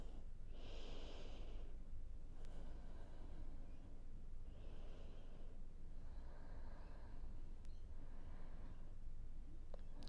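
Slow, quiet breaths in child's pose during an intermediate vinyasa yoga flow: roughly three soft inhale-exhale cycles of airy, nasal breathing with faint snorting edges, close and calm over a low background hum, no talking.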